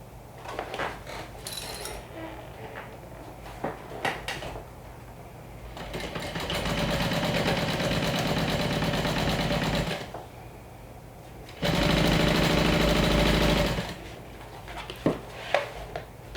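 A sewing machine stitches a fabric back panel in two steady runs of rapid mechanical whirring, with quieter handling and rustling of the fabric before, between and after.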